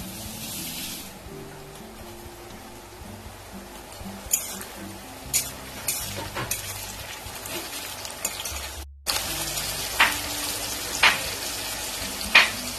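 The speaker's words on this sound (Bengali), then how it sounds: "পেঁয়াজটা দেখো লাল লাল করে ভাজা হয়ে গেছে। এবার আমি টমেটো দিয়ে দেবো।" Tomatoes hit fried onions in a pan for mutton curry, giving a steady sizzle with the scrape and clink of stirring and a louder burst of frying partway through.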